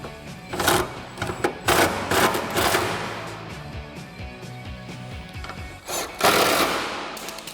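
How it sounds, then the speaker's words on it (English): Impact gun fitted with a 10mm socket tightening headlight mounting bolts on a 2005-2009 Mustang: several short, loud rattling bursts, close by, separated by pauses over a steady tonal background. "take my impact gun with my 10mm on it"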